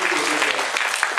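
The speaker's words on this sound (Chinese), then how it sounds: "谢谢掌声" A crowd claps steadily at a business seminar, close and fairly loud for the whole moment, with a voice heard over the clapping.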